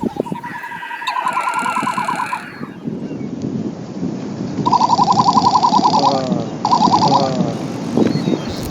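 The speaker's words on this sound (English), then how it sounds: "This is the sound, this is part of the courtship of a male great frigate bird." A male great frigate bird gives its courtship call near a path in the Galapagos, bursts of rapid warbling, rattling trills standing out over wind and surf noise, with breathy rumbling between them.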